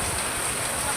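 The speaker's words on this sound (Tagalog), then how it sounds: "Ayan, inabot ng ulan." Rain falling outdoors on a walk through Torres farm, a steady soft hiss of drops that stays even and continuous, close and moderately loud.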